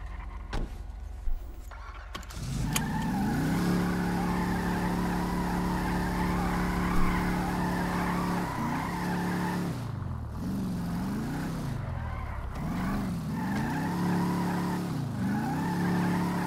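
Car from the GTA RP game Brazuca City driving along with a steady engine drone, broken by several swooping tire skids and squeals in the second half, loud and continuous with no talk.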